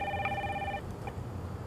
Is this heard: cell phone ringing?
yes